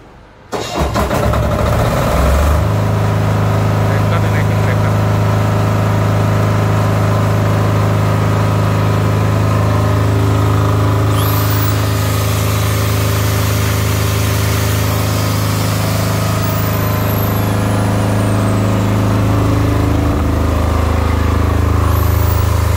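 A 7 kVA heavy-duty silent diesel generator with recoil and electric start fires up and settles into a loud, steady running drone that holds close and constant for about twenty seconds, with a faint high whine drifting in midway.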